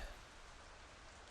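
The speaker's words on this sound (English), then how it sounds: "A drizzle of spring rain." A spring rain drizzle in the Arknights game sets up a soft, even hiss of falling rain that holds steady throughout.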